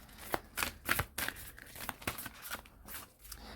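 Tarot cards shuffled by hand, giving a close series of crisp, papery riffles and flutters in irregular bursts, with no voices.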